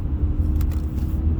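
A car moves through traffic with a close, continuous low rumble of road and engine noise and a couple of faint higher ticks partway through.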